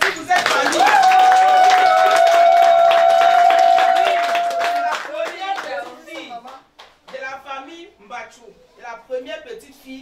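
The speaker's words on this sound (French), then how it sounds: "Est-ce qu'on peut applaudir pour cette famille?" Wedding guests at a customary marriage celebration applaud the family, loud clapping under a sustained tone for several seconds, then thinning into scattered claps and light chatter as it fades out.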